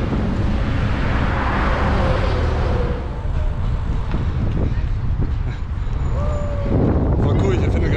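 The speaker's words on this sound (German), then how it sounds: "das ist eine Autobahn, auf der ich gerade fahre" Wind roaring steadily across the microphone while cycling on an Autobahn during a bike tour, with a constant rumble of nearby traffic underneath and a brief rising whine of a passing vehicle near the end.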